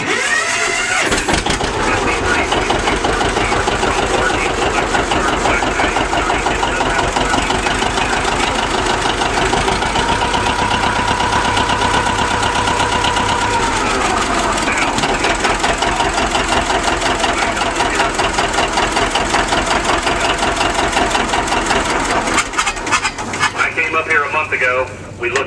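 A John Deere 720 diesel tractor cranks and catches near the microphone, then settles into a loud, steady, rapidly pulsing idle that runs almost continuously before cutting out near the end, with voices at an outdoor sale.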